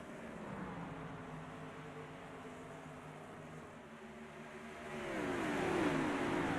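Race cars of the LEC NextGen Series circle through turns 3 and 4, a steady distant engine drone with rising and falling pitch that grows louder as the field draws nearer.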